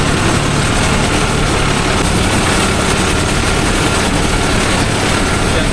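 A Mahindra Arjun Novo 605 DI tractor engine runs steadily close by, a loud, dense low rumble with broadband roar holding constant throughout, no pauses or speech.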